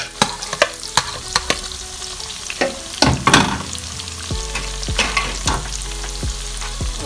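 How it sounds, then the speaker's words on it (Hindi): Onions frying in hot oil for biryani give a steady, close sizzle, broken by repeated sharp clinks and scrapes of a spoon stirring the pan. "डालने लगा हूँ प्याज, जो कि तेल गर्म है"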